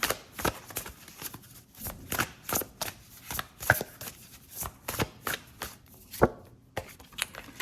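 A deck of oracle cards is shuffled by hand in a quiet room, producing repeated sharp riffles and soft slaps in an irregular rhythm, close and clear with no talk.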